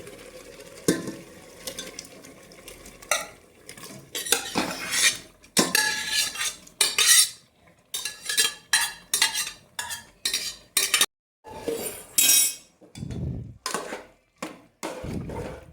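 Undhiyu vegetables tumble into a pot and are stirred, giving clattering scrapes and clinks of a spoon against metal in irregular bursts with short pauses, close and fairly loud, with no talking.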